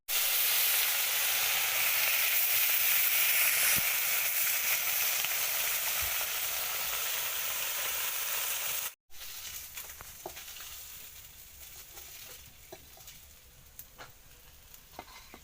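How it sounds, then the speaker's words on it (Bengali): Marinated fish frying in hot oil gives a loud, close, continuous sizzle that cuts off abruptly, then returns softer with scattered light crackles. "এই মাছটা মাখানো হয়ে গেছে, ভাজা বসাই"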